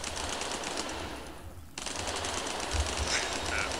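Sustained rapid gunfire in the mobile shooter Tacticool, dense continuous bursts that drop out briefly mid-clip and then resume at full intensity.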